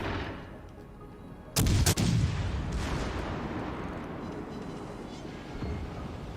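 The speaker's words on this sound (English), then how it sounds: "Got the secondaries firing." Secondary guns on a warship fire in World of Warships: two sharp, loud cracks close together, followed by a long rolling boom that fades slowly.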